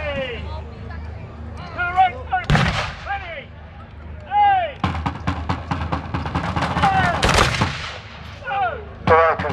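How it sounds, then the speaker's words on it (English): Cannon fire at a reenactment battle show, the Overlord Show 2026: several loud, sharp booms spaced a few seconds apart, mixed with crackling gunfire and shouting voices throughout. "the cannon must have some really rubbish shot in it today"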